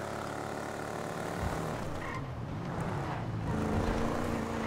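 Fully upgraded Albany Virgo muscle car in GTA Online, its engine a steady, loud rumble throughout, with a slight rise in revs toward the end and no talking.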